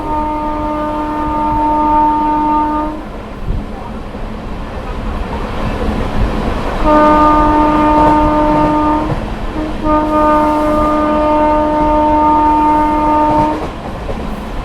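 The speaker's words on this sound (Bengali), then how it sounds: "বহরমপুর বাইপাসের নিচ থেকে যাচ্ছে সাইরাং কলকাতা এক্সপ্রেস" The Sairang–Kolkata Express rumbles past close by, passing under the Berhampur bypass, while its horn sounds three long, loud blasts separated by short gaps.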